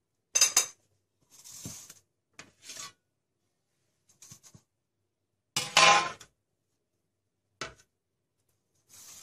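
Small balls of Turkish simit dough being set onto a baking tray, heard as a series of separate scraping, clattering placements with quiet gaps between them.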